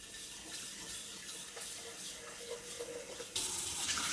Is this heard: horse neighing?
no